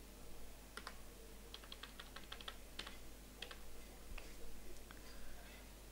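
Light, quick clicks of a computer keyboard as a web address is typed, irregular bursts of close keystrokes over a steady low hum, with a few brief pauses between groups of keys.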